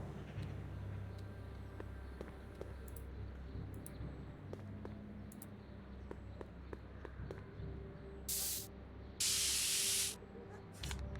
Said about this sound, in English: we need the spray paint